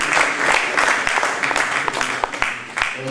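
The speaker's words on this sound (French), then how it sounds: "Applaudissons pour le Seigneur." A church congregation claps for the Lord with sharp, distinct hand claps standing out over a broad crowd wash, under a lively room sound, with no talk on top.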